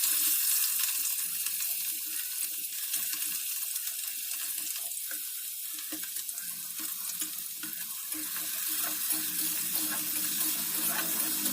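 Sliced onions frying in mustard oil alongside prawns in a home kitchen pan, a steady close crackling sizzle with soft stirring scrapes, no talking.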